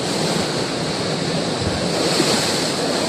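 Loud, continuous roar of heavy surf crashing nearby, with wind buffeting the microphone throughout.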